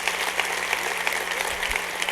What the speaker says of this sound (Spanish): Le das aplauso fuerte